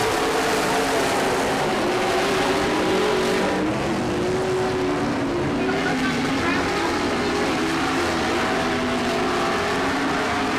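Race cars running at speed on a track, a continuous loud engine roar with pitch sweeps as cars pass and accelerate, while a commentator talks over the noise.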